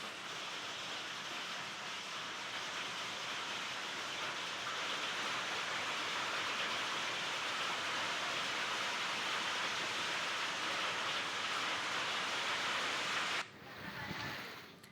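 Hail and heavy rain lashing down during a storm, a dense, steady roar of falling ice and water that fills the scene loudly for most of the stretch before cutting off abruptly near the end.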